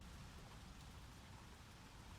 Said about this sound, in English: the rain comes in, push you right into the scenery